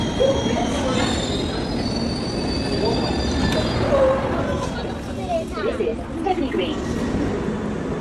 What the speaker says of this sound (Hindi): और अभी हम लोग लेंगे ट्रेन, यहाँ से ट्रेन लेके जाएंगे सीधा आर्सेनल के ट्रेन स्टेशन पर उतरेंगे।